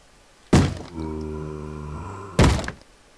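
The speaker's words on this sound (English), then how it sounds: "They bang on the door." Two heavy thuds of Minecraft zombies banging on a door about two seconds apart, loud and close, with a low droning hum ringing between them.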